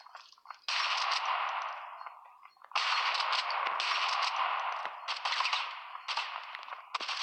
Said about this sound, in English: I'm holding up this team with a shit shotgun